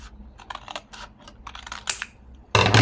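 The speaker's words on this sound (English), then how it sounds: "So we will cut this piece" Scissors snip through a scrap of paper in a quick run of short, crisp cuts up close, ending in a louder rustle of paper being handled.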